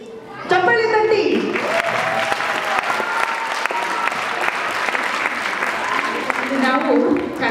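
An audience at an Ugadi celebration breaks into loud, sustained applause that fills the room, while a voice talks over the clapping at the start and end.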